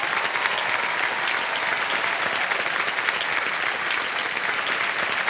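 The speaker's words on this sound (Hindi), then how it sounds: "तालियां बजती रहे जोर से।" A studio audience on the Kaun Banega Crorepati game show applauds in dense, sustained clapping that holds evenly at full volume from start to finish.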